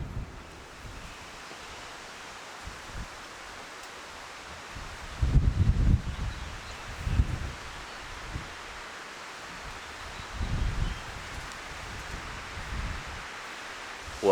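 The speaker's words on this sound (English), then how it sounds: "the wind has not even for a second slowed down since yesterday" Strong wind blowing steadily outdoors, a continuous broadband rush with gusts swelling louder around the middle and again near the end, with no voices.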